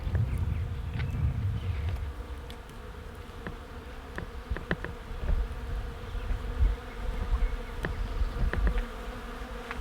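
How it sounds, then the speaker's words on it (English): Steady, dense buzzing of many bees in the trees close by outdoors, a continuous droning hum with faint scattered clicks and rustles. "I love the sound of the bees in the trees."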